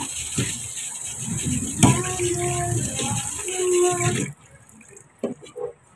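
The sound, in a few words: running water rinsing fish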